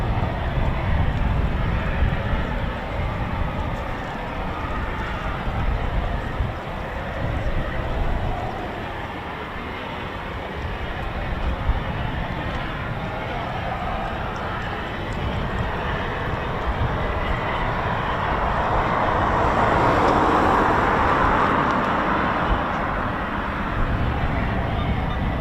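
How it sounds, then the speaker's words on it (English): Eurofighter Typhoon FGR4 jet engines start up at an RAF airfield, a broad, steady roar and whine heard from a distance that swells somewhat louder toward the end. "Typhoon startups as well"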